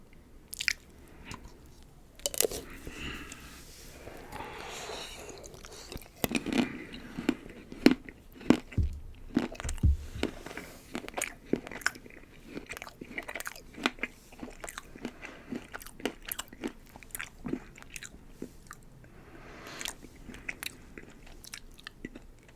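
Chocolate-covered strawberries, some dipped in white chocolate and some in milk chocolate, are bitten and chewed close to the mic, giving repeated crisp bites and wet, squishy chewing with a few soft whispered words between mouthfuls.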